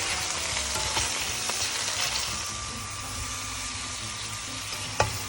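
Chicken browning in a pot over medium heat, a steady, close, dense frying sizzle that holds evenly throughout, with one sharp tap near the end.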